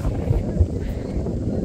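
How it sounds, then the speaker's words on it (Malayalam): Wind gusting against the microphone on a rainy family trip to Ponmudi hill station, a steady low rumbling buffet that runs throughout with a couple of stronger thumps. "അതെന്താന്നോ കാറ്റടിക്കുന്നുണ്ടല്ലോ"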